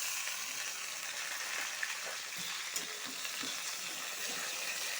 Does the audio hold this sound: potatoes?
yes